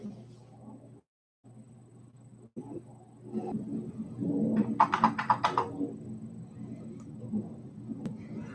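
Someone types on a computer keyboard nearby, with a quiet stretch before a cluster of quick, crisp key clicks near the middle. The clicks then thin out into scattered taps.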